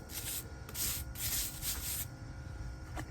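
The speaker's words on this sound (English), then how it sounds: "Now already, just with the light scrub, most of it is kind of coming off." Light scrubbing of years of built-up brake dust off a car wheel rim, a soft repeated rubbing in several short bursts, fairly quiet and close, with no talking.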